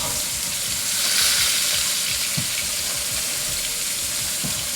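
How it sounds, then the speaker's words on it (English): Carrots are rinsed under a running kitchen tap, giving a steady, close rush of water with faint splashes. "Just rinse those off real good."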